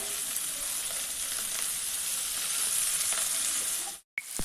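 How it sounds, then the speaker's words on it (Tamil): Dried fish frying in hot oil, giving a steady dense sizzle and bubbling hiss at close range that cuts off abruptly near the end, with no voices. "இங்கே பாருங்கள் எவ்வளோ எண்ணெய் பபிள்ஸ் பபிள்ஸாக வருதுன்னு"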